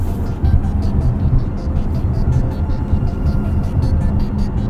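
A 2026 Toyota RAV4 Hybrid accelerates in sport mode, heard as a loud, steady low cabin rumble and whir with road noise, continuous and without distinct peaks.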